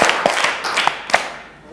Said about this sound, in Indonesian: Tepuk 1. Tepuk 2. Tepuk 3. Coba ikut saya.